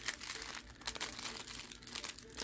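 Yu-Gi-Oh trading cards are shuffled by hand during a case opening, a soft continuous rustle and crinkle of card stock and packaging, quiet and close, with no talking.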